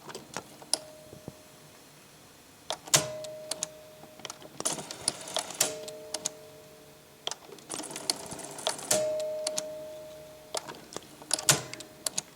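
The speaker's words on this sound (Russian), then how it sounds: "послушайте, как работает лентопротяжка" Tape transport of a Sony CFS-F40 boombox running, a faint close mechanical whir broken by irregular clicks and clunks as the mechanism is stopped and started again, with no talk.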